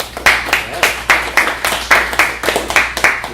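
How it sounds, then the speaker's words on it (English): Clapping from the audience at a tech conference talk comes as a steady, even run of sharp claps, close and fairly loud, with no talking. "I want to have a little round of applause for the front-end developers in the Drupal community."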